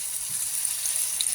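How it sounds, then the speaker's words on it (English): A steak with some fat left on sizzles in a hot pan, a steady bright hiss with small crackles and pops, close and continuous with no talking. "And now the pan is hot, so I'm just gonna place my steak like so."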